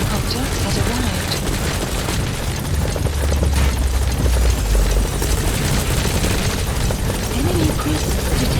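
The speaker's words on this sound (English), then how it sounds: "Support helicopter has arrived." Support helicopter arriving in the video game Metal Gear Solid V: The Phantom Pain, a loud continuous rotor roar with deep rumbling booms and battle noise, while voices talk over it.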